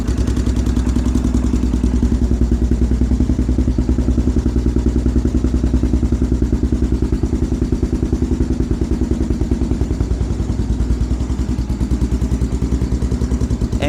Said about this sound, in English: It's got a little bit of chatter, but I think that once that oil works through that engine,